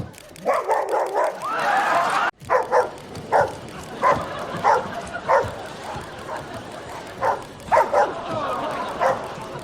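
A person imitates a dog, letting out a series of short yapping barks in irregular bursts over background noise.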